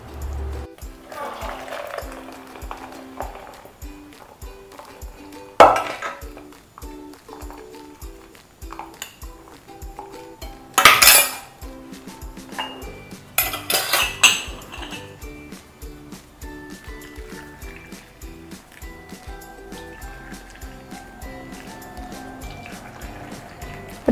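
Tea is poured into cups in a home kitchen, with soft liquid trickles, sharp clinks of cups and utensils and occasional louder pours spread across the span, fairly close.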